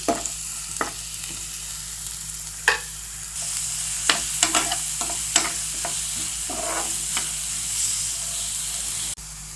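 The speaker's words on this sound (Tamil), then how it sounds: "வெங்காயம் நல்லா வதங்கிடுது" Finely chopped onion sautés in a hot pan with a steady, close sizzle and hiss, while sharp clicks and taps of a utensil stirring against the pan break through at irregular moments.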